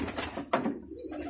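Pigeons cooing on a rooftop loft, a Belgian pigeon among them, with several soft throaty coos in quick succession close by, followed by a brief quieter pause.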